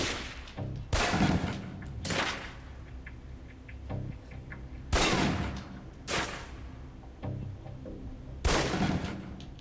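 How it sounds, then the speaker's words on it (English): Pistol shots ring out at a target range in Alpha Protocol, sharp and fairly loud, coming singly and in quick pairs with short pauses between them, over quiet game ambience. "Equip the pistol, then aim down range and take some shots at the target."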